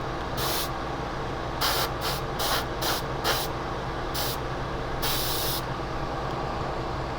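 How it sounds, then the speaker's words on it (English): Short bursts of hissing spray as black primer is sprayed onto the seats of a 1/25 scale model Humvee, close up, with about nine separate puffs of varying length over a steady background hum. "So I'm going to use my black super primer to paint the seats."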